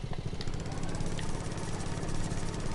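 A lawn mower engine runs steadily in the Farming Simulator video game, set on the alpine Erlengrat farm map. Its low, throbbing idle drones close and continuous throughout.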